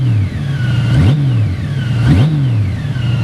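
A 2003 Honda Goldwing GL1800 motor trike with an aftermarket exhaust, its engine revved twice in quick succession, each blip rising sharply then settling back to a steady idle, loud and close with no talk.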